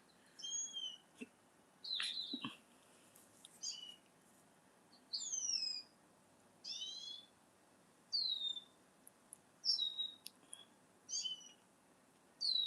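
Birds call outdoors with a series of clear, whistled chirps and short phrases repeated every second or so at moderate distance over faint background hiss, with no talking.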